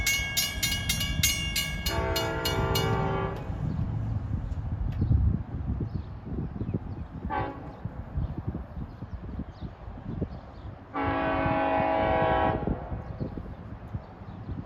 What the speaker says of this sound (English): And as you can hear, he's got a K5 LLA horn.